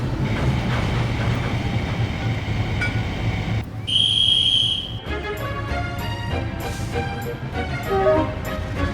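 A train rolls along in the Trainz railway simulator game, hauled by a diesel shunter, with steady rumbling and clickety-clack from the wagons, a brief high whistle-like tone midway, and clanking mechanical rattles, no talk over it.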